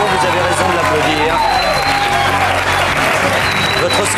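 A French game show studio audience applauds loudly and continuously, with dense clapping, some cheering and crowd babble throughout.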